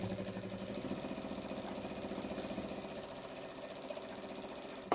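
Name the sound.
sewing machine stitching over thick jelly roll tote seams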